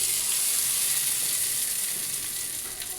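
Hot tempering oil with a dried red chilli and curry leaves poured onto chutney, giving a steady, close, bright frying sizzle that holds for the whole moment with no talk.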